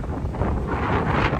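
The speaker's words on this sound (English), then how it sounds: "So I don't know if there's gonna be any breaks in the wind." A strong windstorm blows outdoors, loud steady gusts roaring and buffeting the microphone throughout, with no voices.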